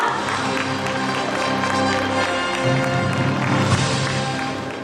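Audience applause opening a vacant store fair in Sejong, a dense, steady wash of clapping from a crowd held for several seconds, with some cheering mixed in.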